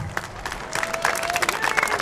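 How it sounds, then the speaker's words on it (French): An audience at the Nuit du Handicap event in Le Plessis-Robinson applauds, a dense patter of clapping that swells after a moment and carries on, fairly close. "Je crois qu'on peut les applaudir très très fort."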